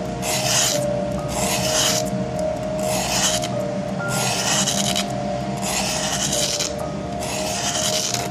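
A fountain pen nib ground on sandpaper in distinct strokes, about six rasping bursts separated by short pauses, close and even in loudness, with no speech.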